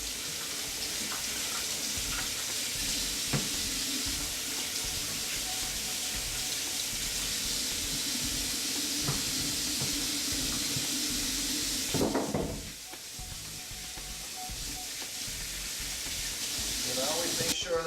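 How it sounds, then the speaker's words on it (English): Tap water runs steadily into a sink during cleaning with germ-killing soap, a continuous hissing splash that briefly changes and dips partway through. "Takes a soap that kills germs and clean out that sink there."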